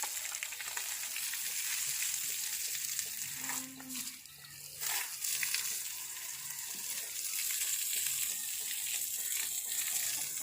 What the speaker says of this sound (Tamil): இன்றைக்கி கறவை மாட்டை க்ளீன் பண்ண போகிறோம் குளிக்க வைக்க போகிறோம்